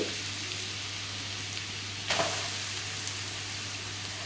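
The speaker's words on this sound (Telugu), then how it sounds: "నెయ్యిలో బాగా కలిసేలాగా ఒక 2 నిమిషాల వరకు కలుపుతూనే ఫ్రై చేసుకోవాలి" Grated carrot stirred and fried in ghee in a pan for carrot halwa, giving a steady soft sizzle with a brief scraping stir partway through, close and moderate with no voices.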